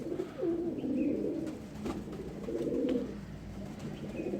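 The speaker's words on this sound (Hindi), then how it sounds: "ये झोले में से उठा हुआ कबूतर है।" Pigeons coo in low, throaty rolling phrases, close and steady, with a few faint chirps in the background and no speech.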